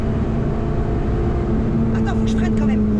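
A Peugeot 106 Rallye engine drones steadily up close, its pitch holding and rising slightly.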